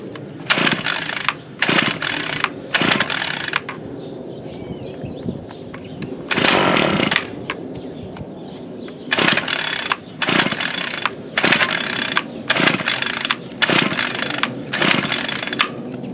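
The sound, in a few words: Ryobi RY28121 26cc trimmer tiller engine running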